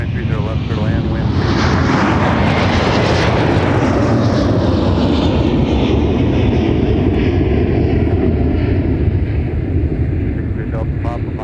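A Delta airliner comes in to land on runway 30 left at Minneapolis airport, its engines giving a loud, steady broadband roar that holds for the whole stretch, with a tower radio voice over it.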